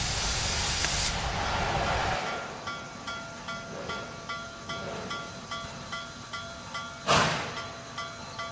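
Steam hisses from a kettle in a loud, broad rush for about two seconds, then drops to a softer, steady hiss with faint repeating tones and one more brief hissing burst near the end.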